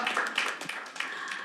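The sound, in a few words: audience applause welcoming a speaker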